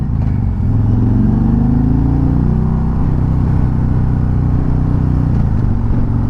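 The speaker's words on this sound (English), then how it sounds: "let's get into throttle just a little bit." A Harley-Davidson Road Glide 3 trike with a 114 engine pulls away under light throttle, a loud, close, deep rumbling exhaust rising slightly in pitch and holding steady with wind noise.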